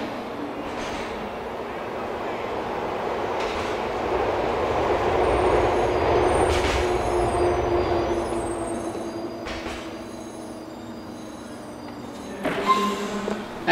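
A train pulling into a station in GTA 4, a low rumbling approach that swells and fades with a steady tonal whine, plus a few clanks and a sharp squeal near the end; someone speaks over it.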